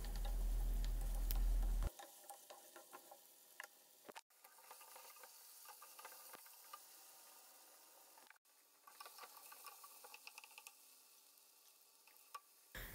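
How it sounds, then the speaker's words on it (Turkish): Carrots and potatoes frying in oil in a pan, giving a steady close sizzle with scattered crackles and occasional stirring clicks, continuing without talk. "Evet, patatesleri de ekleyerek kavurma işlemine devam edelim."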